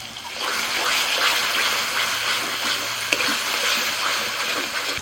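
Water poured into a pan of fried spice paste made with cashew, melon seed paste and yogurt, a steady broad hiss and gush lasting throughout, close and fairly loud.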